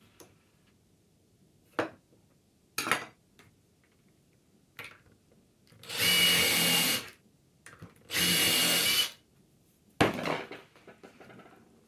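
Two short whirring bursts of a power drill boring in with a centering drill bit on a kitchen cabinet door, separated by pauses and scattered taps and clicks of handling.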